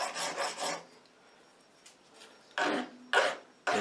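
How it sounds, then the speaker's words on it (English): A hand file deburrs the metal edges of an ER20 collet block, giving close rasping strokes in two groups: three quick strokes, a quiet gap, then three more. "Now we just have to hand deburr these edges."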